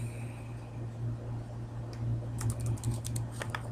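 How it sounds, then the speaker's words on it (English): Typing on a computer keyboard while entering text in Photoshop, starting after a near-silent stretch as a quick, close run of light key clicks over a steady low hum. "then just type in whatever text that you want"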